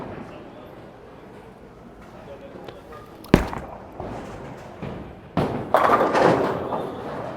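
A bowling ball thrown with a Roto Grip Gem rolls down the lane on a house shot and crashes into the pins with a sharp thud, followed by a louder scattering clatter, close and clear over faint room noise.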